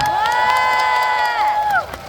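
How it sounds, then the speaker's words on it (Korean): A festival crowd cheers and whoops loudly for the mayor and a film actor, with high shouted voices sustained over dense noise before fading near the end. "다시 한번 더 우리 시장님과 정부석 우리 영화 배우님께 큰 박수 부탁드리겠습니다"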